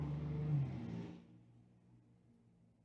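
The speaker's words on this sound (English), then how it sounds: "It sounded like someone got in their car and just drove" A car outside a house drives away, its engine hum loud for the first second, then fading into a faint low rumble as it recedes, with no voices.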